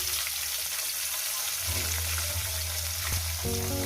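Chopped onion frying in hot oil with whole cumin and whole garam masala for a mutton curry, a steady close sizzle with a low hum joining partway through.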